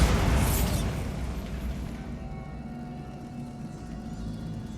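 A Bombarda blasting spell detonates in Hogwarts Legacy amid troll debris: a loud, close boom with a bright crackling burst at the start, settling into a lingering low rumble that slowly fades.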